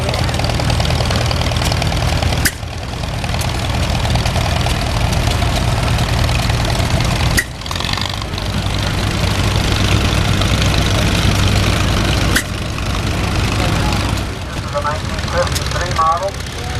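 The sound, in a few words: antique International tractor engine idling at a parade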